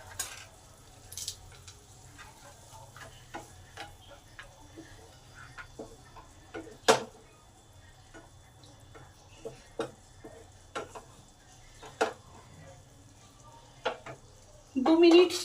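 Lentil dumplings (bori) tossed into a pan of cooked kulpi greens sizzle faintly while a utensil scrapes and taps in scattered, sharp clicks, fairly quiet throughout.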